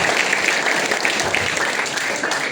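An audience at a training event applauds first-timers, a dense, continuous wash of clapping from a large crowd, loud and steady throughout without clear speech.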